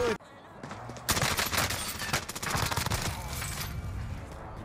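Rapid bursts of gunfire crackle in a video game, close and loud, coming in dense volleys after a short quiet start, with excited voices yelling over the shooting.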